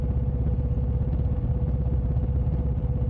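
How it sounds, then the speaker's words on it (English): A motorcycle engine idles at night at 1:30 in the morning, a steady, close, low chugging rumble with a faint rattling clatter, constant throughout with no talking. "motorcycle idling"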